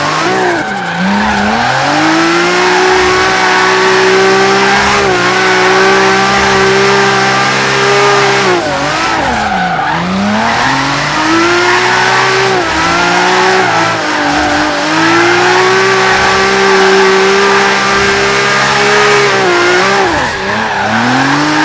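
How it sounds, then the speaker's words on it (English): Loud, continuous engine roar of a 450 hp 1971 Nissan Skyline drift build in Forza, with rising and falling pitch as gears shift, mixed with squealing tires. "the tire noise and the noise of the car in the background"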